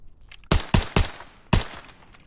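Sten gun from the game Call of Duty firing four sharp, loud single shots, three in quick succession and then one more after a short pause, with nothing else audible.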